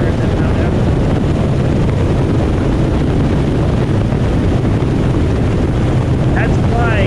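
A helicopter flies high over a Mount Everest glacier at about 24,000 feet, heard as a loud, continuous rotor and engine roar mixed with heavy wind buffeting the microphone.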